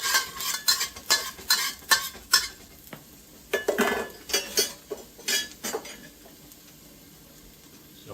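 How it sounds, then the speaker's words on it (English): Chopped ginger and garlic stir-fried in a hot wok, with a series of sharp metal spatula scrapes and clinks over a sizzle, then the sizzle carrying on alone as the stirring stops. "Give that a quick stir fry"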